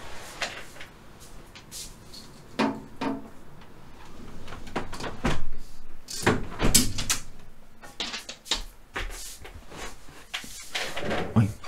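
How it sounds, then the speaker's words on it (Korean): An indoor room door is pulled shut with a couple of knocks and clicks of the latch and frame, close and fairly loud against faint room noise and some light handling sounds. "문 좀 닫고."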